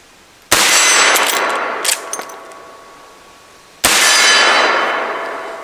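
Two loud gunshots from a Henry Big Boy Model X .357 Magnum lever-action rifle firing full-power loads, about three seconds apart, each a sharp crack followed by a long ringing echo fading out, with a faint metallic clink between them.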